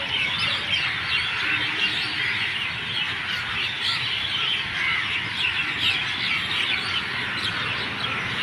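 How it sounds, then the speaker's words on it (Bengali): Crows and small birds chirping and squawking in a roadside tree at dusk in Batanagar, a loud, dense, unbroken chorus of overlapping calls that fills the whole stretch with no speech. "পাখিদের কিচিরমিচির অনেক দিন পর শুনে খুব ভালো লাগছে।"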